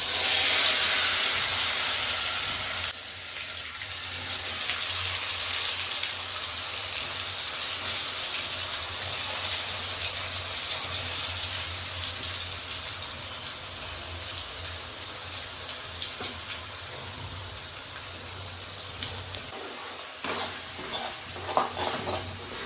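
Spice paste made with whole cumin sizzling in hot oil in a home kitchen for a Bengali soybean dish, a loud steady hiss that begins abruptly and settles into a constant crackling fizz without talk.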